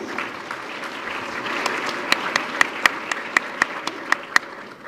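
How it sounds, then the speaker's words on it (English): A room full of people applauding steadily, a dense patter of clapping with a few sharp, louder claps standing out near the end. "another round of applause"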